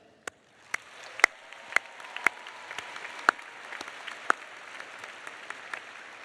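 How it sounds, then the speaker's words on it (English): Scattered, fairly faint audience applause at a DePaul University commencement ceremony: a thin spread of individual sharp claps rising over a soft background murmur, sparse rather than a full ovation. "Let's applaud them."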